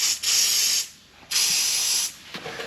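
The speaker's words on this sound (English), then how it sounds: "Spray some super rust breaker on these." Two bursts of hissing rust penetrant aerosol sprayed onto exhaust studs, each under a second long, separated by a short pause, close and fairly loud.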